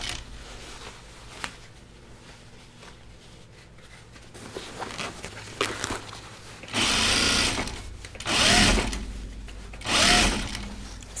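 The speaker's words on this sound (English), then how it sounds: "So we'll just sew this along the top edge." A sewing machine stitching along the top edge of a fabric laundry basket with a thick stiffener, with quiet handling at first, then three loud close bursts of rapid mechanical whirring, each lasting about a second.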